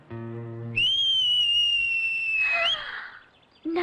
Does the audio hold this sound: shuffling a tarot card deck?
no